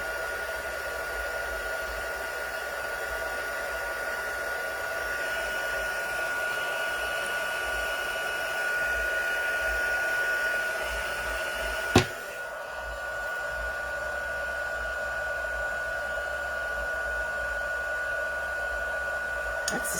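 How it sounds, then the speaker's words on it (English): A heat gun blows steadily for heat embossing, a constant close whooshing hum with a faint tone, briefly interrupted by a click before running on. "watch with me as I change everything, and you'll see what it looks like each successive time that I heat emboss"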